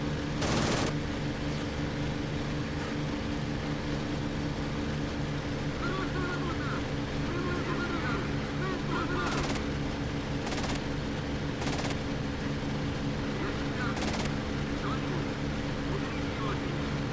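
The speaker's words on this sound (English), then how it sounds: "Loving that artillery, the artillery explosions down here." Artillery shells explode in the flight combat game IL-2 Sturmovik 1946, with several sharp bursts going off at intervals over a constant loud drone of aircraft engine noise.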